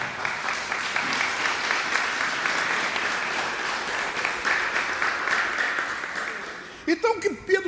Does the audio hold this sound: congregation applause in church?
yes